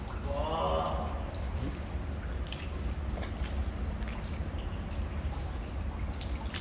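Water leaking from a second-floor unit drips down through the ceiling of a newly built apartment, a steady wet trickle and patter running throughout beneath someone talking.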